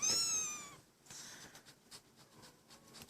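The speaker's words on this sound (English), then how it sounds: "He's over there purring at his kid." A cat vocalizing up close: a loud, bright meow to start, followed by quieter chirping, bird-like trills and soft murmurs, with no talk over it.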